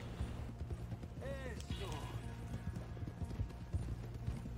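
Horse hooves clip-clop steadily at a walk in a Western video game, underneath a brief whinny and someone talking.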